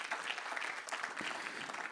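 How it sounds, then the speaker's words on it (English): A crowd applauds at an annual Jalsa gathering in Kenya, steady dense clapping filling the whole two seconds at moderate distance, with no talk over it. "A round of applause to all of you."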